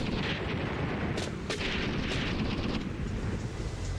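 Gunfire in the WWII tactical game Graviteam Tactics: Mius Front during a hill defense skirmish, a rumbling bed of distant battle noise with a few sharp shots cracking through, no talk.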